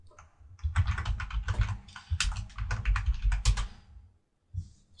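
Typing on a computer keyboard in bursts of rapid, close key clicks over about five seconds, with a short pause near the end before a few more taps.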